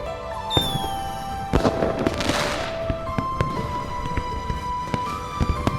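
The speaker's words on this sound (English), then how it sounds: "There will be fireworks over the river tonight." Fireworks over a river at night in the video game Love and Deepspace, with sharp bursts and crackling pops among a steady tonal game ambience, one bigger burst flaring mid-clip before scattered fainter pops.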